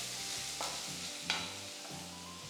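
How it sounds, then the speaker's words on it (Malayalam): Finely chopped ginger and green chilli sautéing in a pan for oats upma, a quiet steady sizzle with three or four sharp scrapes of a spoon stirring against the pan, close and without talk. "ഒരു 1/2 ടീസ്പൂൺ ഇഞ്ചി പൊടിയായിട്ട് അരിഞ്ഞത്, അതുപോലെ ഒരു പച്ചമുളക് പൊടിയായിട്ട് അരിഞ്ഞത്. ഒന്ന് വഴറ്റിയെടുക്കാം."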